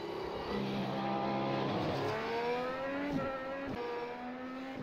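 A McLaren-Honda MP4-30 Formula 1 car engine in the iRacing sim at COTA revs and shifts through gears, pitch climbing and dropping with each change, a continuous loud whine with no talking.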